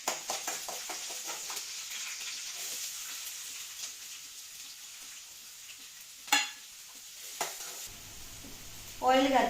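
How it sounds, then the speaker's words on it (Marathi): Onion and green chillies fry in hot oil with a steady, close sizzle, broken by a few sharp clinks of stirring and a louder rattle of the pan at the end. "ऑयल घातले, हरव्यो मिरसांगे घातल्यो, कांदो घातलो. आता तळसोवपाचे."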